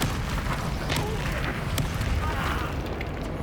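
Confringo spell explosions in the video game Hogwarts Legacy, a continuous roar of booming blasts and combat effects with spoken voices running over the top.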